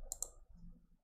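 Two quick, faint computer mouse clicks close together, followed by soft low room noise.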